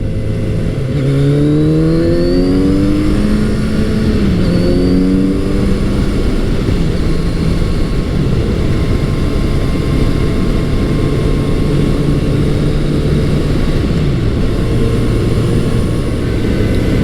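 A smooth Kawasaki Z900RS motorcycle engine hums steadily while riding, with rising and falling pitch as it shifts through gears, loud and continuous with wind rush.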